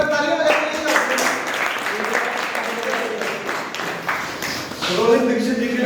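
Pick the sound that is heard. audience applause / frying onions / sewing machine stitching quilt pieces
audience applause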